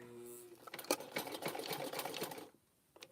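A sewing machine stitches rope, running in a quick close mechanical rattle for about two seconds after a brief hum, then stopping, with no voices.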